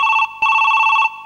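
A telephone rings with two bright electronic trills, a short gap between them, loud and close with nothing else heard.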